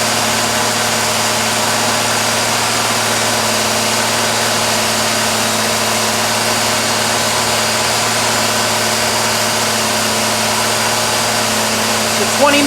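A Ford 200 inline-six with a two-barrel Holley Sniper 2300 fuel injection setup runs steadily at a fast idle during cam break-in, a constant droning hum with no variation, close and loud.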